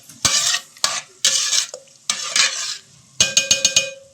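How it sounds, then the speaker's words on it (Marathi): Mashed pav bhaji vegetables stirred into cooked masala in a pan, with several scraping spoon strokes against the metal and a soft sizzle underneath, close and clear, ending in a quick series of taps. "आता याच्यात आपण हे मॅश केलेल्या भाज्या पण टाकून देऊ."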